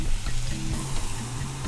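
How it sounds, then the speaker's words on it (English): A floured, salted and peppered snapper fillet fries in a saute pan with a steady, loud, close sizzle and crackle that runs without pause. No one speaks. "You only cook halfway the snapper in the saute pan"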